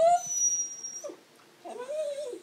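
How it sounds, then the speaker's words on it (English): An excited dog whines in high-pitched, wavering cries while its owner gets ready to head to a hunting club. There are two bursts of whining close by with a short quiet gap between them. "you can hear my whining, excited"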